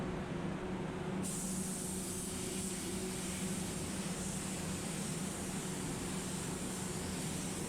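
Spray gun applying a second metallic effect coat of paint to a car bumper, a continuous close hiss that grows brighter after the first second and holds steady to the end, with no talk.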